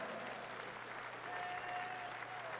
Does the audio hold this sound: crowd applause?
yes